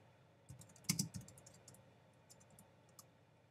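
A search is typed on a phone keyboard as a short burst of quiet, close taps and clicks clustered near the start, followed by scattered lighter taps in an otherwise quiet room.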